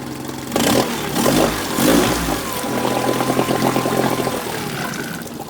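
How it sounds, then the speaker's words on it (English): A 1983 Yamaha XJ900 Seca motorcycle engine running after a carb rebuild and balancing: a close mechanical hum that swells in a couple of revs, then settles into a steady idle with a faint tone above it. "it's a nice running motor"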